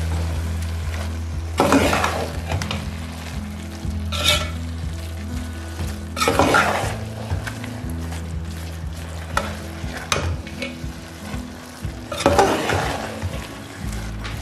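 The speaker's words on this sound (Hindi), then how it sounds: "10 मिनट तक मुसलसल मैं इसको भूनती रही हूँ" Grated carrots for gajar halwa fry in a pan and are stirred over and over, a steady sizzle broken about every two seconds by louder scraping strokes of the spoon, with no talk.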